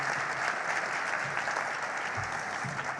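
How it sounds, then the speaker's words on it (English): Sustained applause from an audience at a Canadian Cancer Society and Canadian Breast Cancer Foundation merger announcement, a steady wash of many hands clapping throughout with no one speaking. "Let's give them a round of applause."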